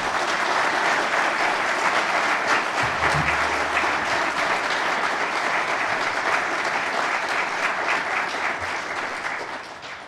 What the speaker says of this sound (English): But again, another round of applause for these gentlemen.